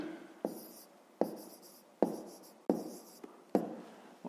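Pen writing on paper while a 5th-grade math exercise is worked out, with faint, close scratching strokes coming in about six distinct bursts, each starting sharply and then trailing off, in a quiet room.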